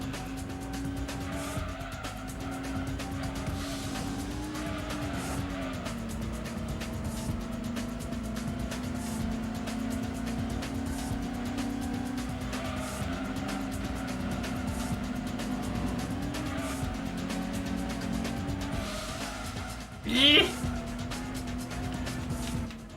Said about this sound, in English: Even with frickin' racing slicks, this car is hard to control sometimes.